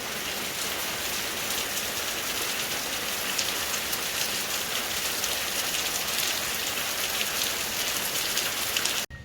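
Steady, heavy storm rain pattering on a surface, a dense continuous hiss of drops that stops abruptly at the end.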